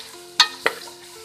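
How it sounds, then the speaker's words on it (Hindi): Potato and cauliflower pieces being stirred in a frying pan, two quick scraping knocks of a spoon against the pan over a faint low sizzle, close and brief. "हम इसको थोड़ा सा मिक्स करेंगे और फ्राई होने के लिए रख देंगे।"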